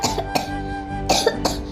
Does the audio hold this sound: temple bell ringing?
no